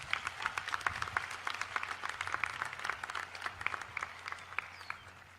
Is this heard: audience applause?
yes